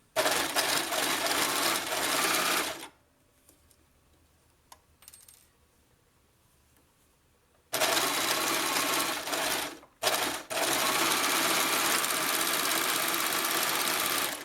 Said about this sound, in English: I'm trying to just let you see how I'm actually sewing this together